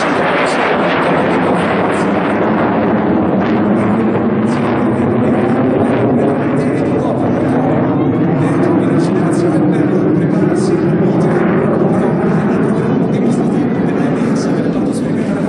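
AMX military jets at an Italian airshow in Jesolo roar at full engine thrust, a loud continuous broadband rumble with wind buffeting that persists throughout, while a commentator speaks over it.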